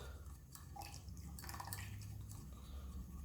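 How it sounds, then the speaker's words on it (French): Lime water poured slowly in a thin stream into homemade liniment while being stirred, producing faint, soft liquid trickling and light clinks, very quiet and close. "on va rajouter tout doucement un filet et on va mélanger au fur et à mesure qu'on va rajouter notre eau de chaux"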